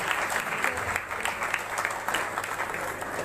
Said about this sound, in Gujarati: ખૂબ જ જોરદાર તાળીઓથી વધાવી લઈએ.